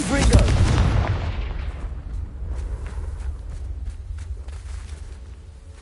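In Hogwarts Legacy, a Confringo blasting curse sets off a heavy, booming explosion up close, its rumble fading over several seconds into scattered crackling and faint debris-like clatter.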